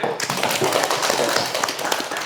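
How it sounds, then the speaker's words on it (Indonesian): Students in a classroom lesson on automotive electrical lighting systems clapping together, a brisk patter of many hands close by, fairly loud and even, tapering slightly toward the end. "beri tepuk tangan"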